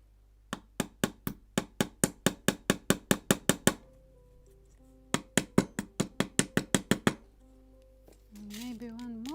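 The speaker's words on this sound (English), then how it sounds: "I'm nailing plank in the bow" Rapid, evenly spaced hammer taps drive nails into planking at the bow of a wooden Mayflower (1620) model ship kit, two bursts of about fifteen crisp close knocks separated by a pause, with a brief voice at the end.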